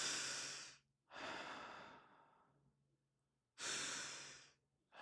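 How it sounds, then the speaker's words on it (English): A group of people breathes deeply in unison, with long, airy exhales that swell and fade, a silent gap, then another deep breath starting, close and quiet. "we're going to all take 2 breaths"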